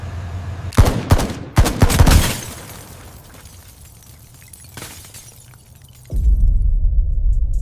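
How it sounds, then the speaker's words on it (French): Several sharp gunshots crack in quick succession, followed by a quieter stretch and then a low rumbling drone. "Un rendez-vous au restaurant, des coups de feu."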